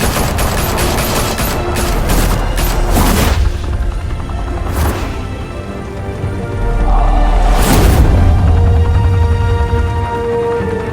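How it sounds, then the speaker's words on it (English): Loud gunfire in Batman: The Telltale Series: heavy volleys of shots and booms, with dense rattling bursts separated by a few sharp cracks and a rumbling low background throughout. "Open fire!"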